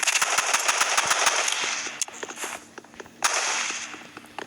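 Rapid automatic gunfire in the Roblox game Rivals, loud and dense bursts of cracking shots with a brief lull and a sharp resumed volley, no voices.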